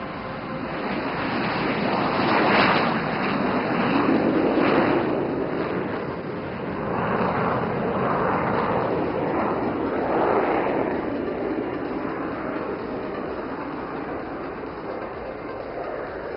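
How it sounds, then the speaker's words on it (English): Suryakiran aerobatic team jets take off in Vic formation at Yelahanka Air Force Station during the Aero India 2025 flying display, a steady broadband engine roar that swells and holds throughout with no talk. "we get set to witness the last and final Vic takeoff"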